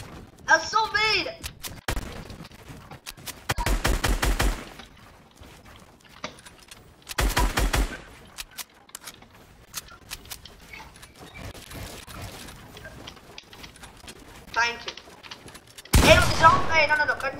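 Several short, separate bursts of rapid gunfire in a video game, loud and close, spaced out across the stretch with talking and shouting in between.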